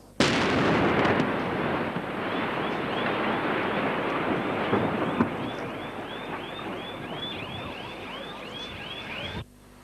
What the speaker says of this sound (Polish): Za minutę 13 eksplodowały ładunki wybuchowe.